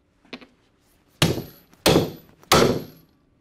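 A hammer drives a three-prong driver onto Flexco BR solid-plate rivets through a conveyor belt splice: a light tap, then three loud, sharp metallic blows spaced about half a second apart, each ringing briefly.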